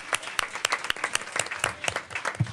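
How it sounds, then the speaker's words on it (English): Applause at a school board meeting for a member certified by the Louisiana School Boards Association: sparse, fairly quiet clapping from a small room, with individual claps standing out in an uneven rhythm. "Give him a round of applause."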